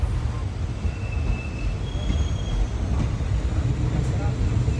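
Passenger train pulling into Nilambur station, a steady loud rumble of wheels and carriage noise with faint high squeals from the wheels throughout, heard from inside the train.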